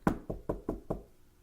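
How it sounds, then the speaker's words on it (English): Five sharp knocks on a door, evenly spaced about a fifth of a second apart, close and distinct, the first one loudest, with no talking. "someone's knocking at the door."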